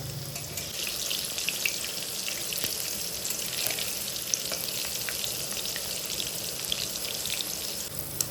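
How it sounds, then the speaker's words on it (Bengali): Steady, close sizzling of pointed gourd frying in hot oil, with a continuous crackling hiss and small pops throughout. "এখানে পটল ভাজা চলছে"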